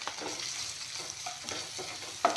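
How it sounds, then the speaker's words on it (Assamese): Sliced onions and red chili powder are stirred in a hot pan, with soft, steady sizzling broken by several scraping strokes of a spoon and a clack near the end. "পিঁয়াজখিনি ভালকৈ ভাজি ল'ম।"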